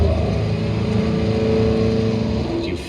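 A rowdy, loud vintage Ford-era car engine droning steadily while driving, a continuous rough low rumble with dense mechanical roar, close and constant throughout with no talking.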